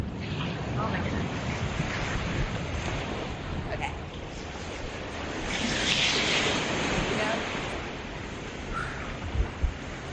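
Surf washes in on a cold, windy beach at Fort Clinch State Park, Florida, over heavy wind buffeting the microphone, a steady roaring rush that swells midway, with a voice faintly present.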